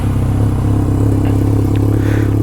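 A motorcycle engine runs steadily right after an oil change, giving a close, loud, even low rumble with a constant idle throb throughout.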